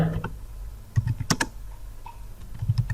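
Computer keyboard being typed on, a handful of scattered key taps and clicks, fairly close, over a low background hum, with no talking.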